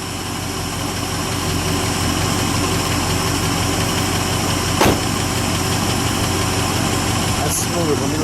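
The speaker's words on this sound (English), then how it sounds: "If we can just let it idle for a moment, and then I'll go back there and listen to it idle." A 1957 DeSoto Firedome V8 idling steadily with an even, low rumble, close and continuous, while people talk nearby.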